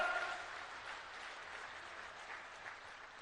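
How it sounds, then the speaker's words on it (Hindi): Crowd applause at a Khajuraho booth committee conference addressed by Union Home Minister Amit Shah: a dense, steady wash of clapping from a large audience that holds its level throughout, somewhat distant and fairly quiet. "जोरदार तालियों से अभिनंदन करिए, जोरदार तालियों के साथ।"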